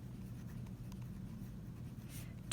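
Pen or marker scratching faintly as equations for solving absolute value problems are written out by hand, soft irregular strokes over a low background hum, with a brief louder rustle at the end.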